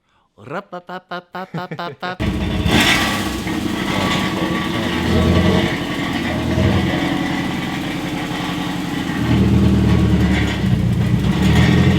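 A straight-piped BMW E36 with its engine cold: after a few sharp cranking pulses it fires into a loud, raw, continuous idle with a rougher swell near the end, close to the microphone, with talk blending in.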